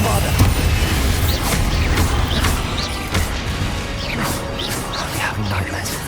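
Confringo and Bombarda spell blasts from Hogwarts Legacy, a series of dull booms and crashes under a steady rumbling game mix, with a player calling out spell names throughout.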